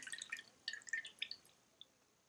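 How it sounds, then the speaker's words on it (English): Water drips and trickles from a squeezed sponge into a bowl, a quick cluster of small, bright drips that thins to a single late drop, quiet and close. "Transfer the water back to the bowl and squeeze in the same manner."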